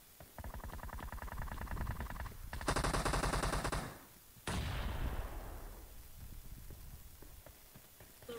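Rapid automatic gunfire in a video game, bursts of rattling shots that build into a louder volley, stop briefly, then resume with a sharp crack and trailing echo.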